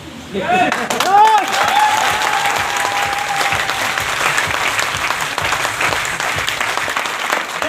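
Sustained audience applause fills a business seminar hall in India, loud and continuous throughout, with a few raised voices and whistles cutting through near the start.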